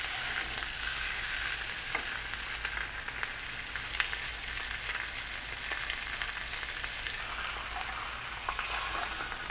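Pan-seared snapper fillet sizzling steadily in a hot pan, a dense continuous frying hiss with small pops and crackles throughout, close and even with no voices.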